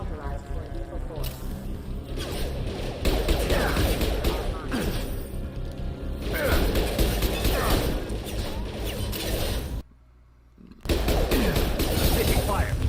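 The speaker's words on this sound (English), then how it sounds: "Taking fire." Sustained automatic gunfire from security mechs in Mass Effect fills the scene with dense, rapid bursts of shots and impacts, loud and nearly continuous, with a brief pause near the end while voices speak over the fighting.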